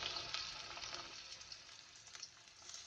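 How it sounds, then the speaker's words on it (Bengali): Chopped onion sizzles in hot oil with a soft, continuous crackle and fine popping, close but faint, heard alone without any talk. "দিয়ে দিচ্ছি পেঁয়াজ কুচি"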